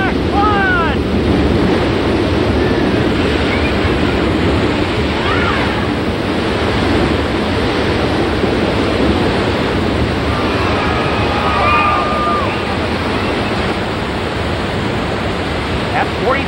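A staged flash flood on the Universal Studios Hollywood studio tour sends 40,000 gallons of water rushing down a hillside, heard as a loud, continuous broadband roar of churning water that holds steady throughout, with faint higher squeals and voices in the background.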